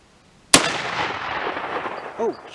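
A single loud, close Winchester 1895 rifle shot, fired from a deluxe hunting rifle with a receiver sight, cracks sharply and then rolls away in a long echoing tail across open ground.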